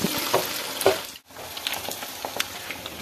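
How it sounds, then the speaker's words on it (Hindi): Homemade paneer frying in oil in a kadai, a continuous close sizzle with a few sharper crackles and spoon touches, briefly dropping out near the middle before the sizzle resumes, no voices. "तो यहाँ पर मैंने सबसे पहले पनीर को जो है वो थोड़ा सा भून लेना है तेल में"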